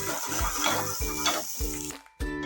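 Onion and capsicum stir-fried in a pan: a steady sizzle with rhythmic scraping strokes of a spatula against the metal, close and clear, ending in a short pause before another stroke.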